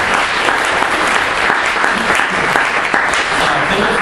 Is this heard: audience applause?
yes